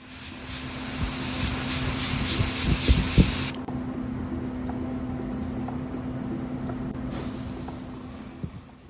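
Gaahleri Mobius airbrush spraying primer onto a Hasegawa Porsche 968 model car, a close, steady hiss that stops for several seconds and then resumes, over a low background hum with a few small knocks.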